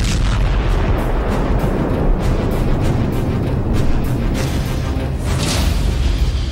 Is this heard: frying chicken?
no